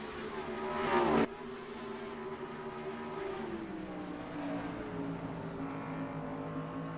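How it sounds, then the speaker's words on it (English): Race cars in the NASCAR Racing 2003 game during a night sprint series race at the Tennessee 200, several engines droning with shifting pitch, and one louder car sweeping past near the start. "Matt Blatt will lead us to the green, and they're racing underneath the lights for the Tennessee 200."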